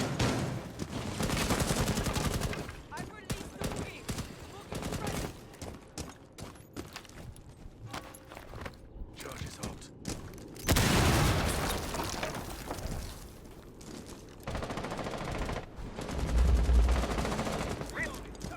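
Rainbow Six Siege gunfire in an online match: dense, loud rapid bursts and sustained automatic fire with booming impacts, running almost continuously with brief lulls, mixed with game noise and players talking.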